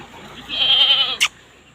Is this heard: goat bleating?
yes